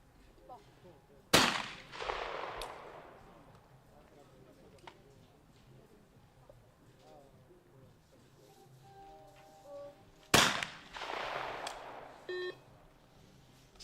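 Shotgun blasts from a women's trap shooting final ring out, two loud sharp reports several seconds apart, each trailing off in a long echo, while a commentator talks throughout and faint beeps sound in between.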